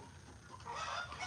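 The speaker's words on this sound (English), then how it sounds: "Shut up, chickens." Chickens cluck and squawk nearby in a short burst that gets louder toward the end, with no talking over them.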